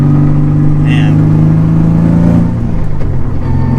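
Modified Nissan Z with an aftermarket exhaust idles loudly and steadily up close, its deep engine drone holding constant before easing slightly near the end, with talk over it.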